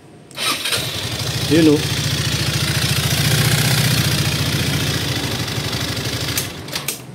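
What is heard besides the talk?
Motorstar Easyride 150fi motorcycle engine starting and idling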